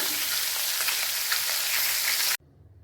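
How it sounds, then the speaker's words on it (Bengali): A turmeric- and salt-rubbed fish head fries in hot oil in a wok, a loud, close, continuous crackling sizzle that cuts off abruptly near the end. "মাছের মাথাটা ভাজতে দিয়ে দিলাম।"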